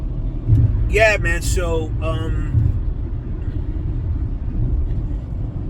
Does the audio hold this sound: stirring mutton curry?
no